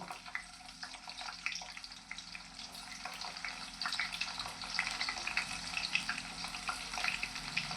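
Steady crackling sizzle of sliced onions and green chillies frying in hot oil, with occasional stirring scrapes and a faint watery hiss in the background.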